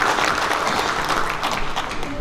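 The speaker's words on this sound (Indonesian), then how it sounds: "Tepuk tangan untuk prestasi" Applause fills a Bali regional parliament session in a dense, steady wash of many hands clapping at once, loud and sustained throughout, with a faint murmur of voices underneath.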